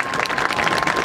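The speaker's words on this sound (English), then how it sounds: "let's have a huge round of applause for all of our student performers tonight" An evening audience gives a round of applause for student performers, a thick, lively burst of many people clapping close and loud, continuous from start to finish.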